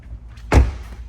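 A single solid thud as the front door of a 2025 Mercedes-Benz GLC 300 4Matic hybrid shuts, close and loud against a quiet background.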